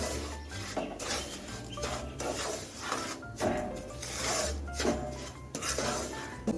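Semolina roasting in ghee in a pan over a low flame, stirred with a utensil that scrapes and rasps in repeated strokes with a few soft clinks of metal against the pan.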